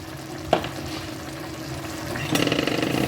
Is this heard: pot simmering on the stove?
yes